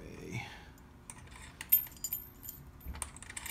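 Small metal RV and Craftsman toolbox bit keys jangle and clink faintly in a quiet room, a few scattered light metallic taps and rattles coming in short bursts.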